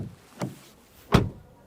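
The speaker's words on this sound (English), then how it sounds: "So this is a good door closing sound now." Two solid door thunks from a 2024 VW ID Buzz GTX electric van, a lighter close followed about three-quarters of a second later by a heavier, fuller slam, both near and with no talking.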